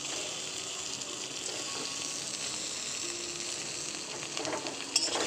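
Paneer pieces frying and being tossed in a pan for Paneer 65 on a balcony garden, a steady, soft, hissing sizzle throughout with a faint clatter near the end.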